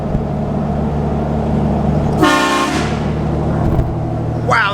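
Train horns mounted on a truck let out a loud, brassy blast lasting about half a second over a steady road and engine rumble, with a second blast starting just at the end.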